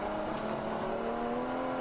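Endurance race car passing at Road America, a sustained engine drone with steady tones heard at a moderate distance over the whole short stretch.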